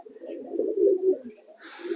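Pigeons coo close by, a soft low rolling coo swelling and fading over about two seconds, ending with a brief higher rustle.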